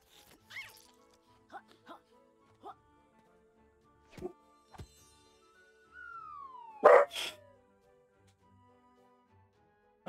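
A dog barks indoors as a few short, sharp yips spread out across a quiet room, some faint and one louder near the middle, while a person talks softly in between.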